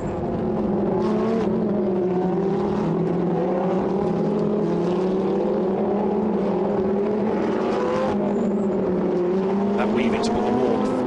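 Lamborghini Super Trofeo race cars circulate at Silverstone, weaving to warm their tyres, with a steady, loud engine drone that rises and falls slightly over the whole stretch under a commentator's voice.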